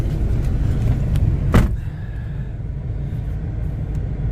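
An Audi TT engine idles steadily after a thermostat housing repair, a low continuous rumble throughout with a brief sharp burst partway through.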